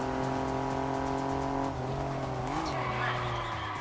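A racing car in TDU: Solar Crown brakes hard, its engine drone giving way to a loud, sustained tire squeal and skid that bends in pitch as the car slides wide past a turn.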